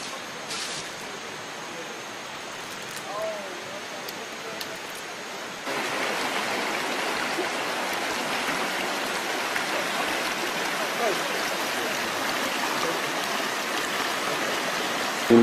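A mountain stream flows along a walking trail toward waterfalls in Uganda, making a steady, close broadband rush of water that grows slightly louder and fuller about halfway through, with no one talking.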